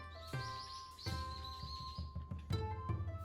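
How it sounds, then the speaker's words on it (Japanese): Birds chirp in a quiet autumn temple garden in Kyoto, a series of clear, sharp tweets and short calls spaced irregularly over near silence, fairly close and distinct. "聞こえるのは鳥のさえずりだけ。"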